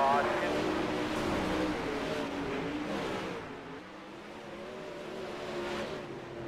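Sprint cars roar around the dirt oval at Kokomo Speedway, a loud sustained engine drone that swells and fades slightly as the field passes, with an announcer talking over it throughout.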